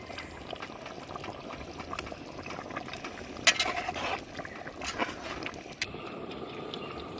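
Homestyle desi chicken curry bubbles at a steady boil in a pot, a constant dense simmering hiss with a few louder splashy pops, with no talking.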